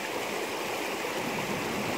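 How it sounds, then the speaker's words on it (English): A waterfall and stream on a Scottish hill walk, a steady rushing flow of water heard faintly and evenly throughout with no voices. "I'm at waterfalls again."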